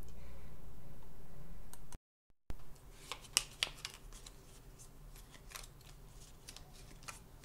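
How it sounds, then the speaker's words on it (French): Tarot cards are gathered and shuffled by hand. Light ticking card snaps and soft riffles follow a steady hum and a brief dropout, with faint rustling throughout. "Le temps de ramasser les cartes, les mélanger"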